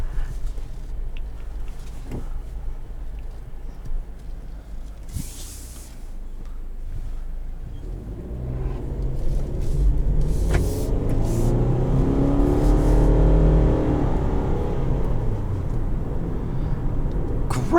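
A 2020 Subaru Forester with a 2.5-liter four-cylinder and CVT automatic drives off-road, engine droning low and steady, then building louder with rising tone partway through as it pulls under load, heard from inside the cabin.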